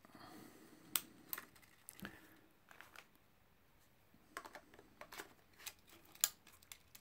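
A battery being inserted into a Panasonic Lumix G80 camera, several crisp close clicks and small plastic handling taps scattered across a quiet background, ending in a sharper locking snap.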